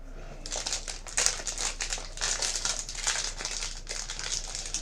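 Crinkling of a plastic sports card pack wrapper being flipped and handled, a continuous crackly rustle with bursts of sharper crinkles, close up and fairly loud, with no talking over it.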